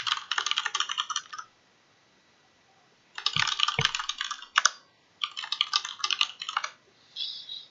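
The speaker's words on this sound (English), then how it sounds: "I will type it." Close, crisp typing on a computer keyboard in three quick bursts of rapid key clicks separated by short silent pauses, ending with a brief lighter flurry.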